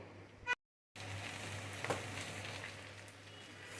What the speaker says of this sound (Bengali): চিংড়ি মাছটা লবণ হলুদ মরিচ দিয়ে মেখে রেখেছি এটা একটু ভাজবো